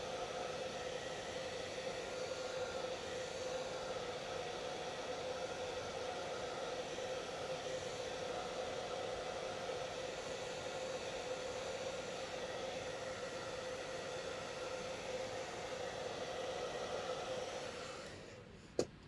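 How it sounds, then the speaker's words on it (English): Hair dryer blowing on a watercolor painting, a steady loud whooshing hum running alone for about seventeen seconds before winding down and clicking off. "I do not like to blow dry my watercolors,"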